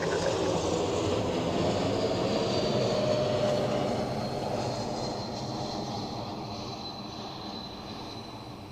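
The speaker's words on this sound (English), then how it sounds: "that's the one from London Heathrow, yeah. Another A220 of Swiss this time" A Swiss Airbus A220 arriving from London Heathrow roars steadily as it lands at Zurich Airport, a broad jet rumble that is loud at first and slowly fades as the aircraft moves away, with no voices.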